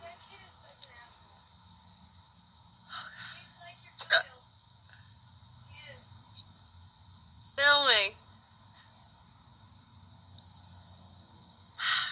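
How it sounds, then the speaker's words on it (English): A woman hiccups in a quiet room, producing several short, isolated hiccups spaced seconds apart with sighs in between, fairly close but soft overall. "She doesn't know I'm trying to film my damn hiccups"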